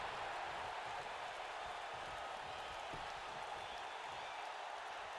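Wrestling event crowd cheering and applauding, a dense continuous wash of clapping and shouting voices at moderate distance, steady in level throughout with no single voice standing out.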